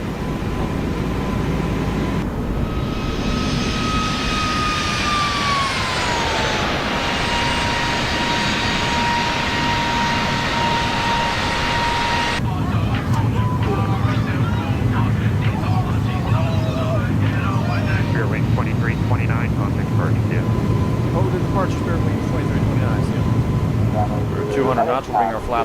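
An airliner's jet engines roar steadily through takeoff and climb in the X-Plane 12 flight simulator, a broad loud rumble with a whining tone that falls away as the climb continues; someone speaks over the engine noise.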